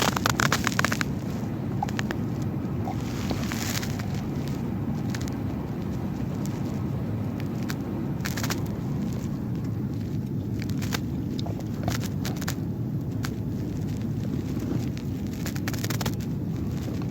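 A car cruises along a peaceful, scenic Kenyan road, its steady engine and tyre rumble continuous and even, broken only by occasional faint knocks and rattles, with no one talking.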